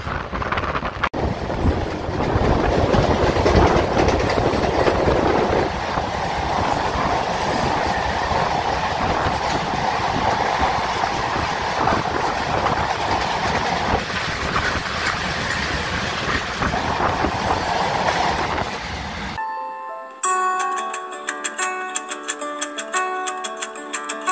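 A MEMU train running between Purulia and Asansol rumbles steadily with rhythmic wheel clatter and wind buffeting for about twenty seconds, loud and close, then cuts abruptly to a different tonal sound at the end.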